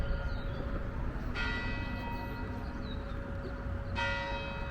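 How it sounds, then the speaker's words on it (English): A bell tower in Tennessee tolls twice, each strike ringing out with a long fading resonance over steady outdoor background noise, heard from some distance. "I'm hearing a bell go off."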